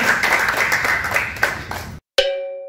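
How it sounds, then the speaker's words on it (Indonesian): Audience applause during an Indonesian talk on debate and resisting hypnosis tricks, a crowd clapping steadily for two seconds before a short silence and a bright ringing chime that fades out. "Oke, tepuk tangan ya."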